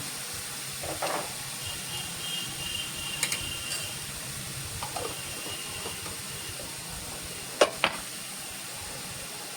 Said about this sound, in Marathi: या कांद्याचा आणि आले लसणाच्या पेस्टचा कच्चेपणा मोडेपर्यंत ते असंच परतत राहायचं आहे